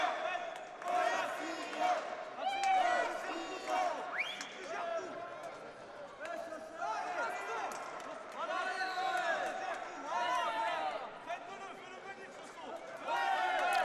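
Crowd cheering at a youth world boxing championship semifinal in Yerevan, backing boxer Sofyan Umiha with loud, surging shouts and chants that rise and fall through the bout amid arena noise and commentary.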